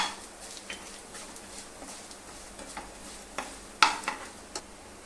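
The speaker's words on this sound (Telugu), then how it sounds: "మెంతులు వేగాక జీలకర్ర కొంచెం వేసేసుకోవాలి" Fenugreek and cumin seeds fry in hot oil, giving a faint background sizzle broken by scattered small pops and crackles, one sharper snap standing out near the end.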